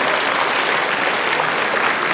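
Dense, steady applause fills the hall at a 2024 Nonsan citizens' dialogue with the mayor, a loud continuous wash of many hands clapping, with no voices rising over it.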